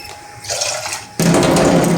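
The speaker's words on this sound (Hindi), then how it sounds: "थोड़ा पानी और डालो।" Water pours in a kitchen, starting as a thin trickle and then turning into a louder, fuller rush for the rest of the moment, close and alone.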